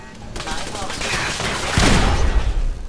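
Turret gunfire in Fallout 4, a rapid burst of shots that builds and grows louder toward the end, close and sharp, with a voice talking briefly beneath it.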